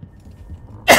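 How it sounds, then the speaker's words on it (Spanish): A person with a very sore throat lets out one sudden, sharp cough up close, breaking a near-silent moment right at the end. "Perdonad de verdad por la tos"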